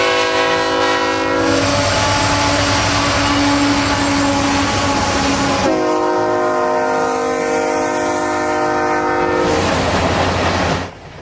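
Canadian National's Illinois Central heritage locomotive rolls past close by, its horn blaring in long sustained blasts over the steady rumble and clatter of the passing train.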